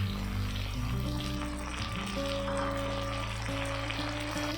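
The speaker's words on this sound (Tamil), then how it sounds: "கருவேப்பிலை சேர்த்து ஒரு 5 நிமிஷம் மிதமான தீயில் நல்லா வதக்கி விடுங்க" Curry leaves and tomatoes sauté on a medium flame for a small-onion chutney, giving a steady, close sizzle with a low hum beneath it and no pauses.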